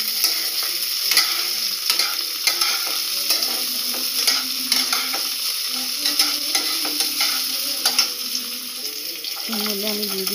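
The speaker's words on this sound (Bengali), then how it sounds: "বিনসগুলো দিয়ে ভালো করে ভাজা হয়ে গেলে" Chopped beans fry in a little oil in a pan, a steady sizzle broken by repeated scraping and clinking of a spatula being stirred through them, close up and continuous.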